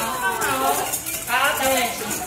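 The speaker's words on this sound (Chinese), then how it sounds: "打蛋器给小朋友下去。 好，然后再打蛋。" A whisk beats eggs into a batter of milk, sugar and glutinous rice flour in a small steel bowl, giving quick rhythmic swishing and clinking strokes, close and fairly loud.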